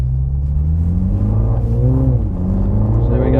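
A 2020 MINI Clubman John Cooper Works with a modern turbo engine pulls hard under acceleration, a loud steady low drone rising in pitch as the revs climb, heard from inside the car.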